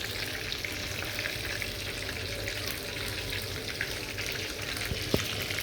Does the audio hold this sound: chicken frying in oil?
yes